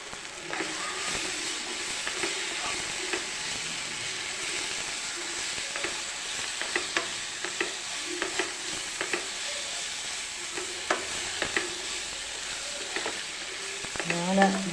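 Egg roast masala sizzling loudly in a pan after coriander and Kashmiri chilli powder go in, a dense continuous fry with scattered crackles and stirring scrapes close by.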